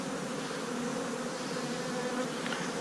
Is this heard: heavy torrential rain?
no